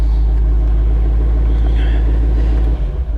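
A 2018 Ford Mustang Shelby GT350 idles loudly up close with a heavy, steady low rumble, then the engine shuts off abruptly and the rumble drops away.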